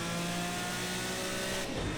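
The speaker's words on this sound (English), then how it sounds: "Really hammering the curves there, and also the engine on downshift as well." A Group C prototype race car engine in Project CARS 2 at Le Mans screams at high revs, then blips and drops pitch on a downshift, loud and close throughout.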